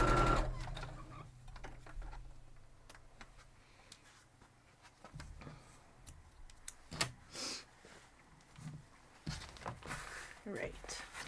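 Sewing machine stitching a 12-inch quilt block, running in short bursts at moderate volume with mechanical ticking, pauses and handling noises between runs.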